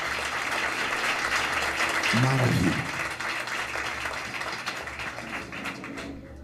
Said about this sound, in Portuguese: Os que podem dar a Jesus mais uma linda salva de palmas.